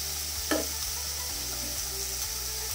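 Spices being stirred in a frying pan for a Bengali fish curry with bori, with turmeric and salt just added. A soft hiss carries throughout, and one brief scrape of the spoon lands near the start.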